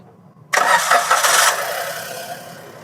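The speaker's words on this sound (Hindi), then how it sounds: "गाड़ी स्टार्ट हो गई है हमारी।" A Suzuki Cultus car engine cranks and catches with a loud, close start, then settles into a steady idle that fades slightly, with no talking.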